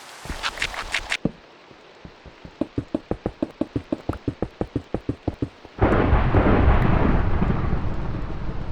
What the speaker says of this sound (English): The thunder was really, really loud, even when I was down a few blocks.